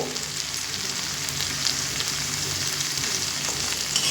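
Potato and spices fry in a pan as chopped bottle gourd greens go in for a vegetarian chorchori, giving a steady, dense sizzle with soft stirring underneath and no pauses.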